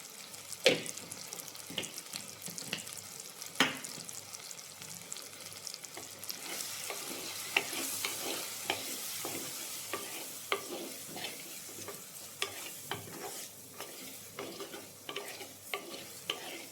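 Spice powders frying in a pan for chicken curry, stirred with quick, repeated scraping strokes over a constant sizzle, close and fairly quiet, with no voices.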